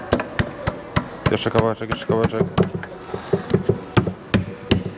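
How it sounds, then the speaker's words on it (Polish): Sharp, irregular hammer taps ring out as a mechanic knocks the camshaft out of a Fendt tractor engine during an overhaul. The blows come close and in quick bursts, mixed with talk and a short squealing metallic scrape. "Puk, delikatnie"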